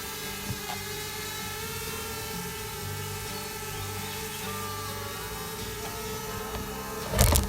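A DJI drone hovers and struggles to land, its steady buzzing whine holding at an even level throughout, with a louder rustling burst near the end.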